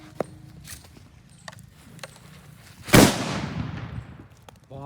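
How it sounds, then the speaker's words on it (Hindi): A sutli bomb firecracker set off for Diwali bursts with one sharp, loud blast about three seconds in, followed by a long rumbling decay, after a few small pops and clicks. "भाई साहब सूतली भी तगड़ा धमाका करती है।"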